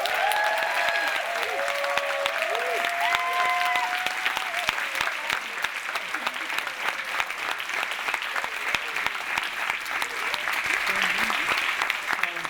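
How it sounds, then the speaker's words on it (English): Festival audience at the 2012 Twin Peaks UK Festival Q&A breaks into loud, sustained applause, with scattered whoops and cheers rising over the clapping early on before the crowd settles into steady clapping. "give a huge round of applause and lots of whooping noises for Lindsay"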